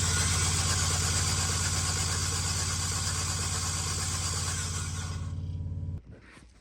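A Chevrolet Astro van engine with a misfire runs at a steady, loud idle with a slightly uneven pulsing beat, then cuts off abruptly near the end, leaving a brief faint tail of sound.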